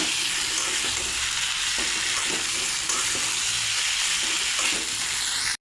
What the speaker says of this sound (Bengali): এখন ভেজে রাখা আলু আর সজনাটা দিয়ে দেবো। মশলার সঙ্গে ভালো করে মিশিয়ে নেব।